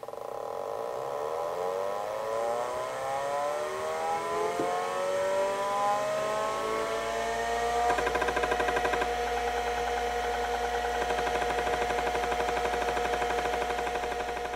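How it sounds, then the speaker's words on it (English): A Seagate ST-225 MFM hard drive spins up, a rising whine that climbs steadily for several seconds before it settles into a steady, buzzing hum with a faint rattle, loud and close with no talking. "when they turn on, it seems like a jet engine starting"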